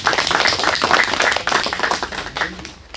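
An audience at a fruit-farming lecture claps in thanks for a master grower, a burst of lively hand clapping that thins out and fades over three seconds.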